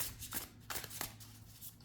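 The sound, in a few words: shuffling small tarot cards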